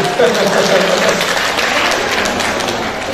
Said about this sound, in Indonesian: Tepuk tangan untuk Pak Jamal, jangan ragu-ragu.